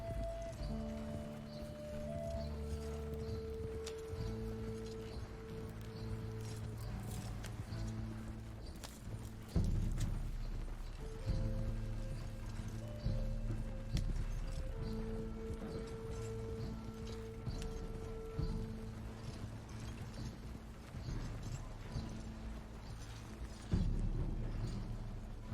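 A horse's hooves clip-clop steadily in a video game, a rhythmic string of soft hoof beats with a few louder knocks, while tonal game music and a brief voice play underneath.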